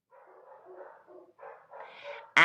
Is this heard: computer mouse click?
no